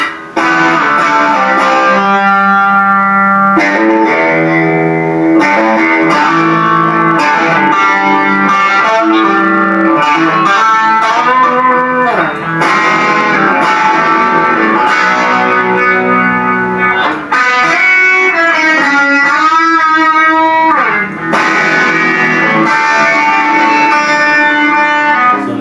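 Electric guitar with a delay effect played through a Blackstar 3-Fly mini amp, a loud, continuous run of melodic notes with repeating echoes trailing behind each phrase and no talking over it.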